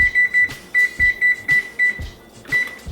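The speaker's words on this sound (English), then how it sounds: "So we just want to set our oven to 425." An oven's electronic control panel beeps as the temperature is set to 425, a run of short, bright, evenly spaced tones close by. Soft button presses and handling noises fall between the beeps.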